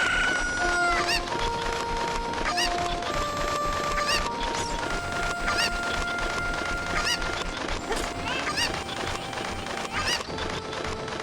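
Chickens in the Zelda Ocarina of Time randomizer cluck, honk and crow in a dense stream of overlapping game calls, loud and continuous for about eleven seconds, with no talking.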